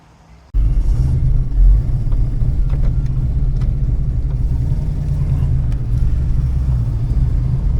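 A Holden Torana car pulling back onto the road, its engine starting suddenly after near silence and settling into a steady low rumble heard from inside the cabin, with a brief surge in loudness early on.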